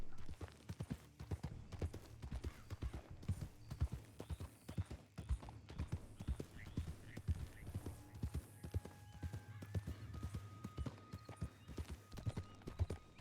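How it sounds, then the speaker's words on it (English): Horse hooves clip-clop steadily in a Red Dead Redemption 2 game world, a dense run of sharp clops over a low rumble, with a brief whinny and faint background tones. "I can hear a horse over there."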